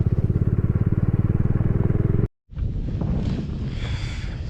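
A Bajaj Dominar 400 motorcycle ridden on a Ladakh mountain road, its engine thumping in a steady rapid pulse with wind buffeting the microphone, a brief cutout, then continued engine drone mixed with rushing wind.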